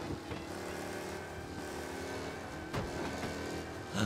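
Overheating car engine in Mafia: Definitive Edition, a steady strained motor drone with a harmonic whine running throughout, close and continuous, with a brief thump near the end.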